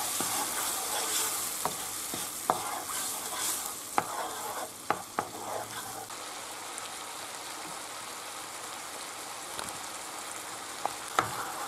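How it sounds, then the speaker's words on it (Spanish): Cockles with white wine and their juice reducing in a pan, a steady close sizzle and bubbling hiss with occasional clinks of a utensil stirring. "es echar los berberechos, el vino blanco y el jugo de los berberechos, y lo dejamos reducir"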